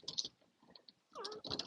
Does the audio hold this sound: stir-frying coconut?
no